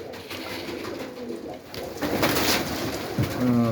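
A loft full of young pigeons gives off continuous close cooing, with overlapping low throaty calls and rustling that grow louder in the second half.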